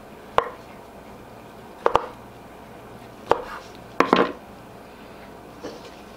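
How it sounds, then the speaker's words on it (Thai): Knife cutting pig stomach crosswise into strips on a board: a series of sharp chopping thuds, a single, a quick double, another single, then a quick cluster, with a faint final knock, close by and without talk. "เดี๋ยวเราทยอยหั่นนะคะ เราก็จะหั่นเป็นเส้นนะคะ"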